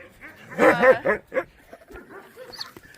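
Small dogs dressed in little outfits give a few short yips and barks in a quick burst, followed by softer whimpers nearby, with some light talk in the background.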